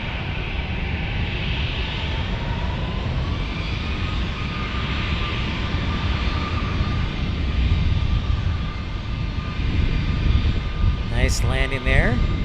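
A Southwest Airlines plane lands in a crosswind at San Diego, giving a steady, loud roar of jet engine noise throughout, with a brief higher whine near the end.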